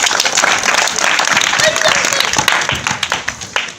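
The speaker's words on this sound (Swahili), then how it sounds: "Makofi kwa mwalimu." A school audience applauds a teacher at a gathering, a dense burst of many hands clapping close and loud, thinning into scattered claps toward the end.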